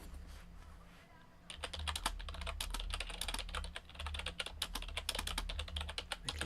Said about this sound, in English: Clicky clacky keyboard.